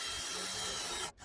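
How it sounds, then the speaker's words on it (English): A drill bores into a Subaru exhaust pipe with a steady grinding, rasping whir at close range that cuts off abruptly near the end. "I center punch and drill a hole in the pipe here."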